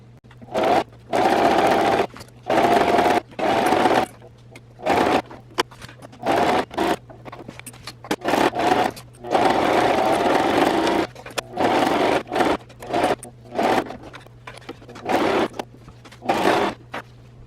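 A sewing machine running a straight stitch around the edge of a cloth diaper, loud close motor whirring in repeated bursts of about a second, separated by short pauses.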